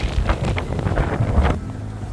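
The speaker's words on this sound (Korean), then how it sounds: "오, 바람이 이렇게 많이 불어." Strong wind outdoors at a resort hotel buffets the microphone in loud, roaring gusts that ease off toward the end.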